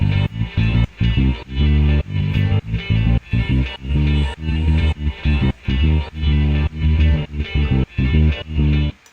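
Melodic atmospheric pads and samples from a beat, loud and lush with chopped, rhythmically gated chords that pulse on and off in a steady bouncy pattern.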